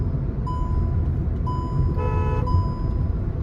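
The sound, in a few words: Hyundai i20 car being driven on a test drive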